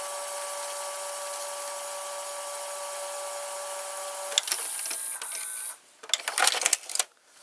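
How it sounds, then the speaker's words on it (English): A Panasonic, Magnasonic or Sanyo VCR's loading motor and mechanism run with a steady mechanical hum, then give way to a brief louder whir and a burst of clicks and clunks as parts shift, ending quieter. "So yeah, we're going to see the loading mechanism again. So there is the loading motor."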